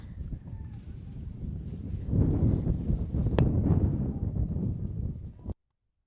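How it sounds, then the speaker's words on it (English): Wind gusts roll through a press box at a high school soccer field, a steady loud rumbling roar that swells midway and then cuts off abruptly. "the wind starting to roll down the field and roll through the press box"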